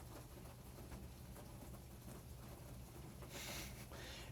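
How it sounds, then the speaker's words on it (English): Hail patters down steadily outdoors, a dense continuous rattle that swells louder near the end, heard alone without talking. "I think it's hailing now."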